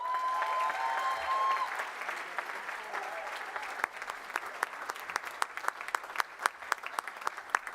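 Applause from a university graduation audience in a large hall, dense clapping at first that thins into scattered, distinct claps toward the end, with a brief tonal whistle early on.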